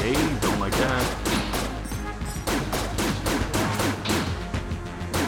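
A gun fires in the Enter the Gungeon video game in a fast, steady stream of loud punchy shots, with crashing impacts and game effects mixed in throughout.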